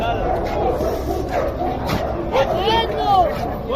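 A ten-month-old male dog yips, whimpers and barks in short bursts amid background chatter and someone talking nearby, at the Friday dog market in Sayeda Aisha, Cairo.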